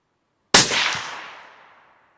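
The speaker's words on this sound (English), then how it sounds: "that's an extremely effective suppressor for a 338 Lapua Magnum" Suppressed .338 Lapua Magnum Accuracy International AXMC rifle firing a single close shot, an abrupt heavy report that trails off into a smooth decaying rumble.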